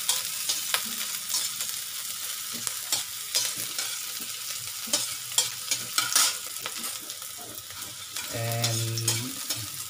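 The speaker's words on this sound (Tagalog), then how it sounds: "Ilagay po natin yung sibuyas. Medyo tutustay natin ng kaunti." Onion sautés in a pan for ginisang corned beef, giving a constant light sizzle with frequent stirring scrapes, and a brief tonal hum is heard near the end.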